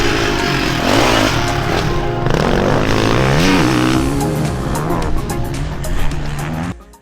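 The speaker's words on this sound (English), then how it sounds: "They had to tone this motorcycle down in terms of how high it would rev." A Ducati Desmo 450 motorcycle engine revs loud and close, its pitch sweeping up and down through repeated high-revving pulls, holding steady before cutting off abruptly at the end.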